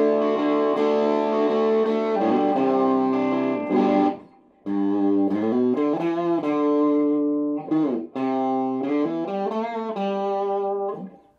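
Sustained electric guitar notes and chords ring out through a DFX Iceberg Overdrive pedal with a gritty, saturated overdriven tone, a brief pause midway, then more phrases.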